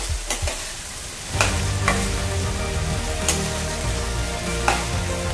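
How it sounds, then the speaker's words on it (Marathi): Okra stirred and frying in oil for a Marathi bhendi bhaji, a dense close crackling sizzle with a few sharp spatula scrapes and knocks against the pan. "भेंडी चांगल्या प्रकारे मिक्स करून घ्यायची आहे। थोडी शिजवायची आहे तेलामध्ये।"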